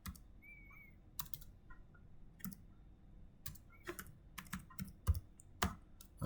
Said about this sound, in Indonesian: langsung ke cmd ini, ketik